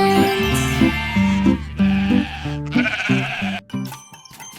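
Sheep bleat loudly and close in a series of repeated wavering calls, several in quick succession over a few seconds with short gaps between them.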